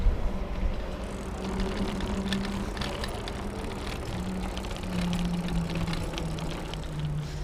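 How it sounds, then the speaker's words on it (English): A single-speed urban bike rolls over a rough surface with relatively large tires, producing a continuous low rumbling drone and scattered rattling clicks, heard close and fairly quiet with no talking. "Here's what it would sound like on rough."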